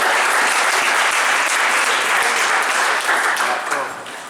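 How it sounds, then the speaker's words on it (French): A church congregation bursts into dense, sustained applause with some cheering, loud and close throughout before tapering off at the end. "Est-ce que tu peux acclamer pour toi?"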